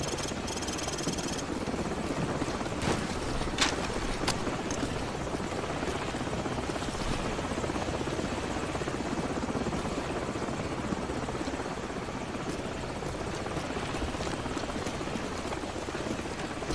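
A helicopter in Call of Duty 4: Modern Warfare thrums with a steady, loud rotor wash throughout, its dense churning noise unbroken and unaccompanied by talk.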